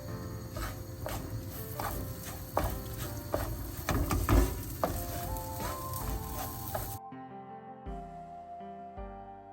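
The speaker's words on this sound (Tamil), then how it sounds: "இப்போ இந்த சாமி அரிசியை நான் வறுக்க தொடங்கி" Samai millet rice roasts in ghee with a loud, continuous sizzle and scattered scrapes of stirring, then the frying cuts off and a soft melodic tone takes over.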